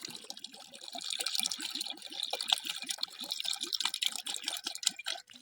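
Water poured into curd to make village-style masala buttermilk, heard as a close, steady gurgling and splashing pour that keeps going with rapid bubbly pulses.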